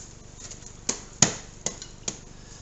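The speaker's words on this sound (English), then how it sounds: "take the bottom of the hammer, start tapping the pistons and the rings in." Four sharp metallic taps spaced unevenly over a couple of seconds, close and fairly quiet, as the bottom of a hammer taps pistons and rings into the bores of a Ford 302 V8 engine.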